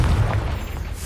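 A fiery Confringo blasting spell explodes in the Hogwarts Legacy video game, a short deep boom with a heavy low rumble that fades over about a second.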